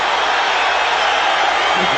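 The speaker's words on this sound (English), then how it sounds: "Crowd on its feet" A boxing arena crowd on its feet cheering in a steady, loud roar that fills the whole moment, with a voice talking faintly underneath.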